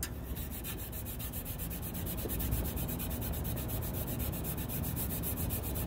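Sandpaper rubs over an old Sawzall saw blade being reshaped into a knife, making a continuous, even scraping hiss with no pauses and no voices.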